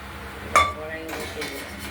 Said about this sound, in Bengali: কড়াইটাও বসিয়ে দিলাম।